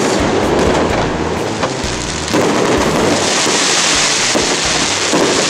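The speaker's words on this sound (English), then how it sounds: "There's a minor league baseball stadium right next to the hotel, and they're shooting off fireworks." Fireworks shot off beside a minor league baseball stadium next to a hotel, heard as a continuous loud roar of booms and crackling bursts with rumbling low thuds, no voices.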